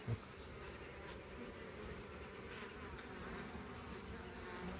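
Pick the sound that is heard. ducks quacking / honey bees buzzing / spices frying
honey bees buzzing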